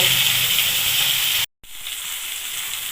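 Katla fish frying in hot mustard oil in a village kitchen wok gives a steady, close hiss with a brief sudden dropout midway before the sizzle resumes.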